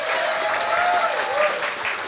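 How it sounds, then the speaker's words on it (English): An audience at a live theatre show claps steadily, a dense burst of applause filling the brief moment. "please applaud Jesse Cannizzaro"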